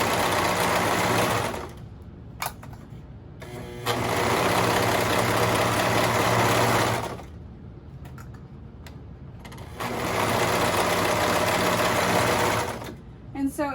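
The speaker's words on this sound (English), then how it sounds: "like to kind of chain sew all of this together" An overlocker-style sewing machine chain sews the bands of baby leggings in two long, loud bursts of steady whirring, with quieter handling and fabric shuffling in the pauses between runs.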